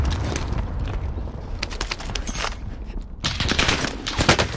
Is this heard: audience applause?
no